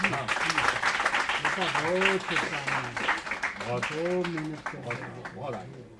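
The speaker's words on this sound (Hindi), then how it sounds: "जोरदार सबकी तालियां बजती हैं।" Applause from a gathering of Delhi University students at a college recognition event rises under a voice, with clapping continuing beneath and between his spoken announcements.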